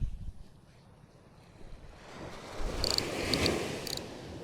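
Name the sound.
strong wind at beach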